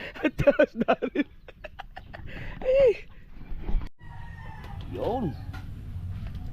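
Rooster crowing in a rural Filipino setting, with bursts of fowl calls and clucking, moderately near, mixed with background noise and some talk.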